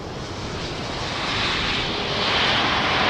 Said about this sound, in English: Aer Lingus from Dublin just passed us by.